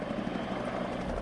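A helicopter in the real-time strategy game WARNO drones with a steady, loud rotor whir, a continuous close-up thrum filling the short moment with no talk.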